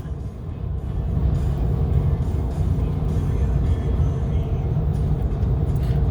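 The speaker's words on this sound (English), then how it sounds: "That's a Kenworth." A Kenworth W900 semi truck hauling a stepdeck load of plywood passes with a low, steady diesel rumble that swells in the first second and then holds loud and close.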